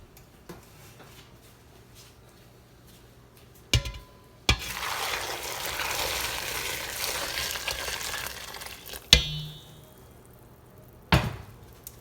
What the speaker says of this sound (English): pour some boiling water over your figs